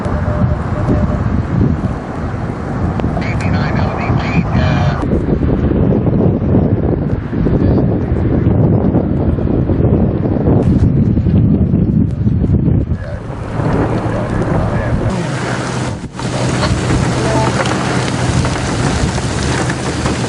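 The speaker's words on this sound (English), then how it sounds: "Here we have wind now." Severe thunderstorm in north-central Indiana with strong wind buffeting the microphone amid heavy rain and rumbling thunder, a loud, continuous roar that surges and eases, with faint voices underneath.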